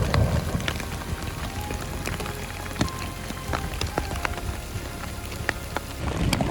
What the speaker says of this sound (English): That's all hail.